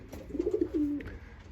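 Birmingham roller pigeons coo softly in a low, rolling burble, a few pulsing notes followed by a longer drawn-out coo, close by over faint background noise.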